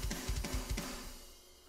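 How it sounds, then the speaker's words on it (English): A programmed drum beat plays, with a hi-hat ticking at the same pace as the snare in a quick, even pattern of a few sharp hits that trails off, moderately loud with no talking. "We'll have a hi-hat going with the same pace as the snare,"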